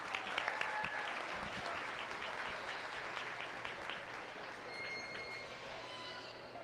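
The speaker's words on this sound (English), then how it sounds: "Please give them a nice round of applause." A crowd in the Monroe County Fair livestock arena gives a steady, moderately loud round of applause that holds evenly, with a few faint squeaky tones drifting through.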